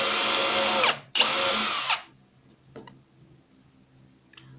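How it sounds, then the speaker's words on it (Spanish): A power drill with a thin bit bores a pilot hole through wood or MDF in two loud, steady bursts of about a second each, separated by a brief pause, then goes quiet apart from faint handling clicks. "utilizando una broca más delgada, aproximadamente del diámetro de lo que es el tornillo que vamos a utilizar, haré centro en las 3 perforaciones"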